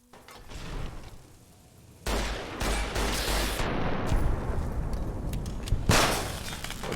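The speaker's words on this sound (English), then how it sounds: "Oh jeez, that explosion spooked me" Explosions and sustained gunfire burst loudly in a Fallout: New Vegas Old World Blues firefight, beginning with a quieter rumble before a sudden heavy blast and continuous crackling shots with a whooshing impact near the end.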